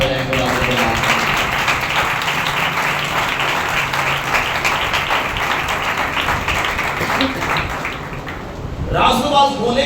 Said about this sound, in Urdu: آئے زوردار تالیاں بجائیں خدا کو دعا۔